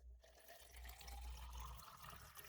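Water is poured onto tropical punch drink powder, producing a steady liquid fill that gurgles and trickles at low volume for a couple of seconds, with no talk.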